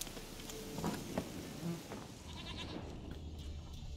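A goat bleats in The Witcher 3, a few short faint calls over steady buzzing insects and a low outdoor game ambience, with no speech.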